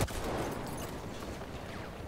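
Hip-fire gunfire from Battlefield 1, a sharp blast at the onset followed by a rattling, roaring wash of rapid shots and echoing reports that stays loud for about two seconds.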